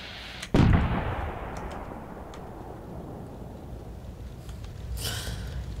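A firework in the game Fireworks Mania goes off with one sharp loud blast, then a long rumbling, crackling decay that fades over several seconds before a faint burst of fizzing sparkle near the end.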